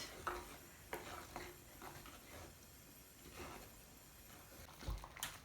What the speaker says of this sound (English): And then I'm going to stir in the slurry. This is a cornstarch slurry.